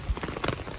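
Rain falling on a garden, a steady, close patter of drops filling the short moment without any voices.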